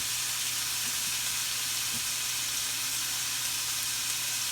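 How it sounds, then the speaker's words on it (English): Ribeye steaks sizzle on a grill in a dense, continuous hiss that stays steady and loud, with a faint low hum underneath and no voices. "It's gonna take maybe about 10 minutes to grill all of these out."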